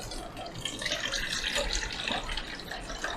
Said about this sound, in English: I'm going to pour out the black and white paper developer